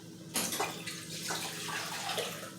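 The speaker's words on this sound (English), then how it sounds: "I'm adding the water to my crock pot with some beef base" Water pours into a crock pot holding beef base, a soft steady splashing stream with a few louder gushes, fairly faint and close, with no talking.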